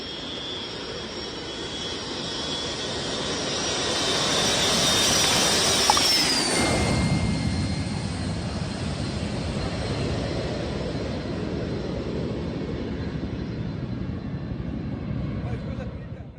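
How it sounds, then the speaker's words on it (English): A jet takes off from an unpaved jungle road, its engine a loud, broad roar with a high whine that swells and passes, then holds as a steady rumble. "Crazy jet takes off from an unpaved jungle road."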